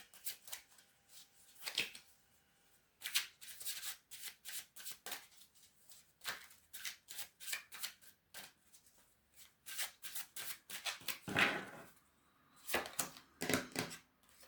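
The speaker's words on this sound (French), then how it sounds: "On va prendre une carte de l'archange Métatron." Oracle cards are shuffled in quick repeated riffling bursts before one card is drawn, crisp papery flutters close by separated by short pauses, with no voice.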